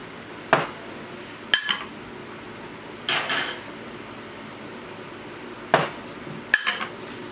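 A small frying pan heating on a stove gets handled with a few sharp metallic clinks and knocks spaced across several seconds over a faint steady background hiss.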